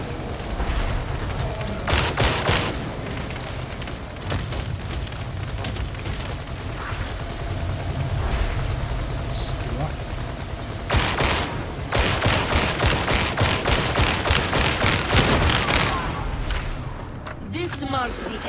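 Gunfire from enemy ranged attacks rattles through a Warhammer 40,000: Darktide battle, with dense repeated bursts and volleys that come in clusters and grow heavier later, heard under a narrator's voice.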